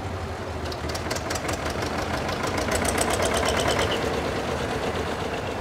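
A 1975 Valmet 2005 tractor of 146 horsepower rolls past at a tractor parade, its engine chugging in a steady, knocking diesel rhythm at moderate volume with no voices over it.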